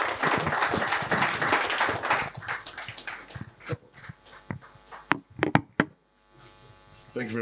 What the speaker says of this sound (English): the enthusiastic applause coming from the right-hand corner of the room